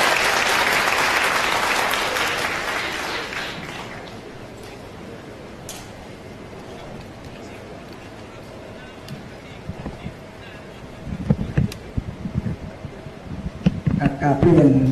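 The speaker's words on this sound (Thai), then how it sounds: "ขอเสียงปรบมือต้อนรับ" Party audience applauding a newly named secretary-general at a Thai political party gathering, a dense burst of clapping that fades over the first few seconds, followed by quieter room sound and renewed movement near the end.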